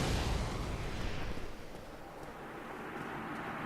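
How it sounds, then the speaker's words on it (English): An explosion in the video game Dark Souls gives a loud, broad rumbling blast at the start that decays into a sustained roaring wash, with no talk over it. "Or could have just been the explosion."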